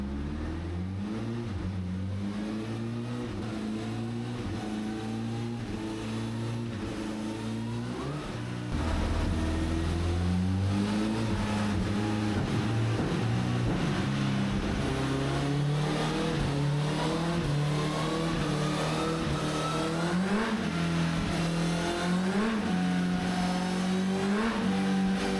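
Honda Fireblade motorcycle engine held at full throttle on a dyno for a base run, a loud sustained roar with rising pitch sweeps through the gears, growing louder partway through and staying intense to the end.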